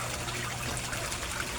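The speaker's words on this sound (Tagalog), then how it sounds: "ang air pump ko din guys, yung nag-create ng bula." A koi fish tank's aquarium air pump bubbles away, giving a steady, even watery hiss and trickle that runs without a break at moderate level, with no one talking.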